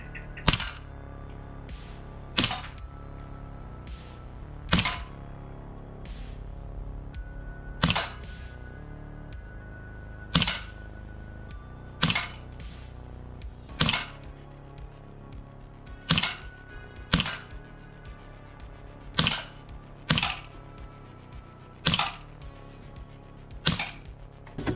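Sharp, evenly spaced shots from a Sig Sauer 1911 Emperor Scorpion CO2 airsoft BB pistol fired at a 10-meter target, about a dozen cracks roughly two seconds apart, each loud and crisp over a quiet background.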